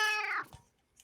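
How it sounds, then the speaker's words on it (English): A pet cat gives a single clear, close meow that falls in pitch and fades, followed by a faint small sound. "I'm just gonna sit here and cuddle with my cat."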